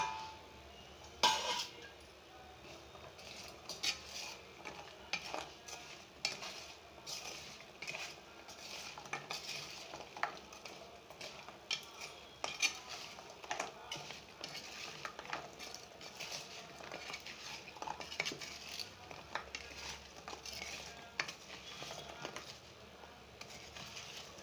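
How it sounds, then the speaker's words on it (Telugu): Fried jaggery gavvalu, small shell-shaped sweets, are stirred into jaggery syrup in a pan, giving a steady run of faint scraping and clinking taps with no voices. "పాకంలో వేసుకోవాలండి."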